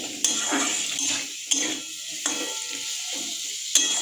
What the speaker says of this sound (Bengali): এবার দিয়ে দেবো আমি ভেজে রাখা আলু